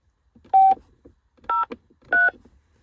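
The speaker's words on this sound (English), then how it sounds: "We can also place an outgoing call using these shortcut buttons on the steering column." A factory car phone in a Mitsubishi 3000GT dialing a stored number gives three short, clear DTMF tone bursts, spaced evenly and close, with nothing else sounding.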